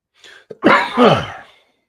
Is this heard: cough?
yes